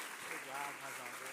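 Church congregation claps together at an evening worship service, a dense, steady wash of applause that lasts only briefly.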